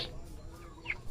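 Chickens cluck nearby in a short, quiet outdoor moment, with a couple of brief high calls over a low background murmur.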